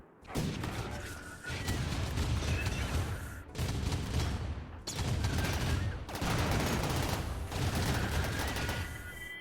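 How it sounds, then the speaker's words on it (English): Turrets fire repeatedly during a RimWorld battle, with dense rapid gunfire bursts in several loud volleys and brief gaps between them. "Let me turn on even more of these back turrets."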